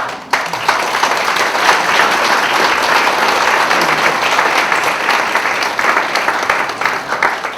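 Sustained audience applause at a memorial ceremony for Kim Jun-gi, a dense, steady wash of many hands clapping close by for the whole stretch, with no talk over it.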